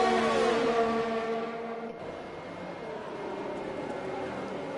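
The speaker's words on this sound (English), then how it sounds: "His engine's revving his nuts off" Race car engine in Gran Turismo revving hard with harmonic whine, rising then dropping as it passes, followed by quieter engine drone from other cars; no talk.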